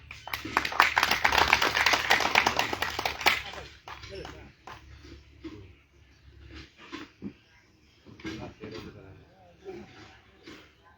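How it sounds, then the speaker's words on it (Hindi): A crowd at a Swabhimani Sena political gathering claps loudly for about three seconds for the national president, then the applause breaks off and speech with scattered noise follows. "और इनके लिए एक जोरदार तालियां हो जाए।"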